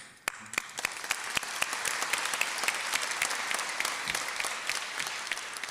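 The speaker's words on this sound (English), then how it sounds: "I want to clap for them" A gala audience applauds warmly for a lifetime achievement honoree, a dense sustained patter of many hands with sharp individual claps standing out, close and continuous.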